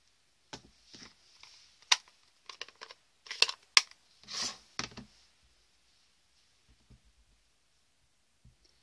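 Scissors snip through cardstock pieces for handmade card making, a series of short crisp cuts and rustles in quick bursts, then quiet with faint handling noises.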